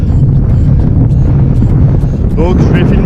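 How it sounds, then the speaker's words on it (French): Loud, continuous wind buffeting the microphone on a mountain pass climb in the Hérault, a steady low roar throughout with a voice faintly breaking through near the end. "il y a du vent."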